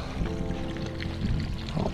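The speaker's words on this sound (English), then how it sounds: "I'm gonna fill up some water." Water pours and gurgles steadily into a container at close range, with rising bubbly tones throughout.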